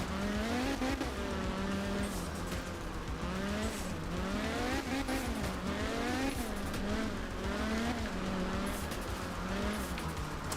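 A turbocharged rally car in the Art of Rally video game drives continuously, its engine revving up and down through gear changes with loud rising and falling whines, accompanied by tire squeal and skidding throughout.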